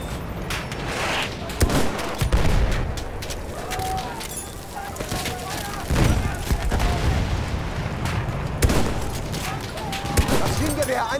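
Bursts of machine-gun fire and scattered shots crackle through a Battlefield 1 video game battle in the Philippines, with booms and irregular volleys over roughly eleven seconds and soldiers' voices shouting underneath.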